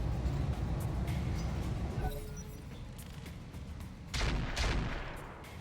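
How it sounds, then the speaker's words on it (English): Mortar rounds drop smoke screens in the mech video game RogueTech, a BattleTech mod: heavy rumbling impacts and dull booms roll over a noisy battlefield bed, with a loud burst near the end. "it's all just mortars dropping smoke screens"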